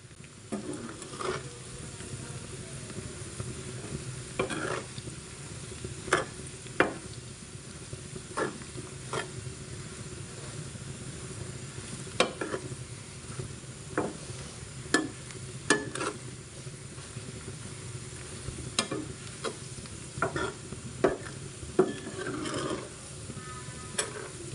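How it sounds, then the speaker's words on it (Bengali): Garlic stirred and cooked in a pan for a Bengali garlic pickle, with a steady low sizzle under repeated scraping and clacking of a utensil against the pan throughout, no talking. "পাঁচ মিনিট রসুন নেড়েচেড়ে রান্না করে নিয়েছি"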